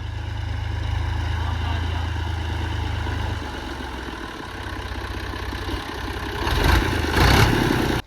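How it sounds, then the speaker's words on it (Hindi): A tractor engine chugs with a low, steady rumble on a Pakistani village farm, idling at first and then swelling louder toward the end as it draws nearer. "अभी ट्रैक्टर आ रहा है।"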